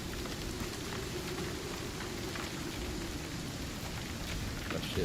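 A dense, unbroken downpour roars through an ICARUS game storm, with low thunder rumbling beneath the rain and no voices.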